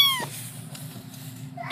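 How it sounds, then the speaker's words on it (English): Two cats meow in a litter box, one close, clear meow opening the moment followed by softer mewing and a faint rising cry at the end, with no speech. "And there's two kitties in the litter box."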